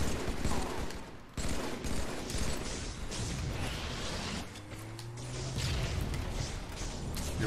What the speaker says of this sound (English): You're wasting all of your shots, dude.